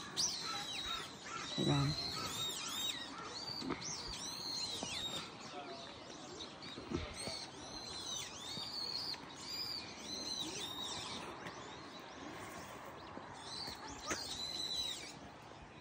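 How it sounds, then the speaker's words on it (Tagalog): Birds chirping and calling in a park during cherry blossom season, repeated bright tweets scattered through the scene with pigeon-like coos at times, fairly faint and distant, and a person briefly speaks. "You can hear the chirping of the birds and it will serve as a music to your ears."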